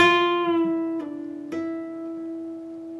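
Slow electric guitar phrase from a solo lick: a sustained note, then two more attacks about half a second apart, the second with a slight bend and wavering vibrato, each ringing on loudly and alone.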